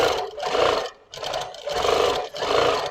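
A Moxie XL 18-inch longarm quilting machine stitching free-motion grid fills, its motor whirring loudly and close in surging bursts with brief dips between passes.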